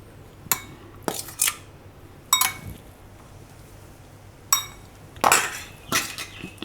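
A spoon scoops chopped mango pieces from a dish onto custard for serving, giving about six sharp metallic clinks and scrapes in irregular bursts with quiet pauses between them.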